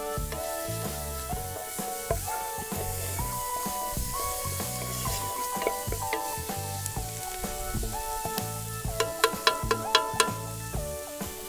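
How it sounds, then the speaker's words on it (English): Onions caramelise in a pan for a vanlife fish curry, frying with a steady sizzle while a spoon scrapes and stirs. Music plays over it, and sharp clinks come near the end. "as we're just stirring this, that's going to start caramelising"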